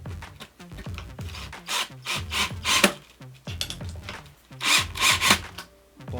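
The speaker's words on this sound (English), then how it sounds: "If you have a skate tool, you can just go like that and just drill it in there." Power drill driving 2-inch screws into a skateboard deck on a DIY electric skateboard build, with repeated short whirring bursts and grinding bites as each screw goes in, close and fairly loud.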